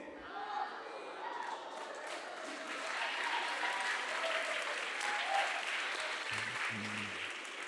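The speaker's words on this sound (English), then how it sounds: "That's a good point to clap and shout right there." Church congregation applause with scattered shouts during a sermon, a fairly distant, steady wash of clapping with a couple of low thumps near the end.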